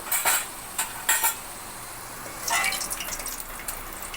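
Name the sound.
lifting fried potatoes out of the pan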